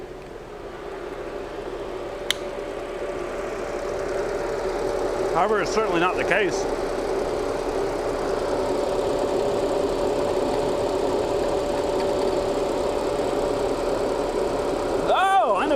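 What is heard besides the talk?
Audi engine running with cooling fan rubbing noise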